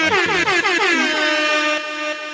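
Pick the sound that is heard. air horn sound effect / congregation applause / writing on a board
air horn sound effect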